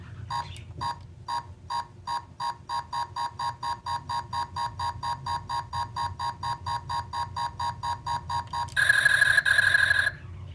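Buzz Lightyear Infinity Edition toy laser sounding a rapid, regular train of electronic scanning beeps, clear and close, ending in a brief higher, denser tone burst before stopping.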